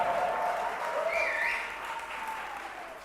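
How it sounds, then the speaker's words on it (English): A crowd claps at an independence lighting ceremony held in a government building, a fairly faint, sustained patter of applause with some high tones over it. "Let's clap it up."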